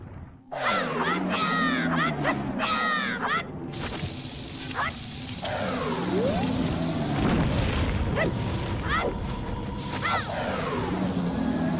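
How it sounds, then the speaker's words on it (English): A bomb blasts a snowball apart in The Legend of Zelda: Majora's Mask at Snowhead, with a booming explosion standing out from the game's steady background sounds. "I throw a bomb there to blow up this snowball."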